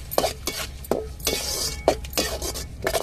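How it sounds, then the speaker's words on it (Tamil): A spoon stirs onions and tomatoes sautéing with a little salt in a pan for a Tamil chicken leg piece curry, making quick repeated scraping strokes over a soft sizzle, close and rhythmic. "நல்லா வெங்காயம் தக்காளி நல்லா வதங்கணும்ல அதுக்கு"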